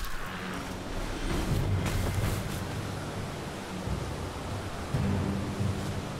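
Steady thunderstorm ambience on stormy hills in Elden Ring, a continuous broad rumble of rain and wind with low thunder swelling through, no voice heard.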